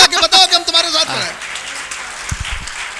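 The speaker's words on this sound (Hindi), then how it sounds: "एक बार ताली बजा के बताओ कि हम तुम्हारे साथ हैं।" An audience at a Hindi poetry gathering breaks into applause after someone speaks, the clapping a soft, even patter spread through the hall, quieter than the voice before it.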